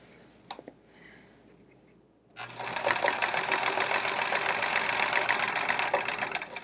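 A sewing machine runs free motion quilting on a chevron quilt. After a couple of quiet handling taps it starts up and stitches continuously at a fast, even rattle for about four seconds.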